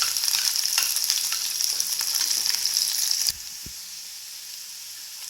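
Onion and garlic sauté with fenugreek in a pan, a steady bright sizzle with stirring scrapes that suddenly drops to a much quieter hiss partway through.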